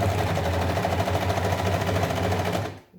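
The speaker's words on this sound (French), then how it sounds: "On ouvre l'angle au maximum et là, on fait une piqûre droite." Sewing machine running a straight stitch on a cloth protective mask, a steady close mechanical whir with fast needle rhythm throughout, stopping just before the end.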